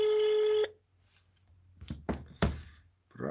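A telephone emits a steady, buzzing tone for about half a second while a call is placed, followed by near silence and then several sharp clicks and knocks from handling the phone.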